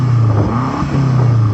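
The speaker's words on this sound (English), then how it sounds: "so I'm going to start off by revving up this M8." A BMW M8 being revved, its engine giving a deep, loud, sustained roar that dips briefly and then climbs again, close by, with no talking over it.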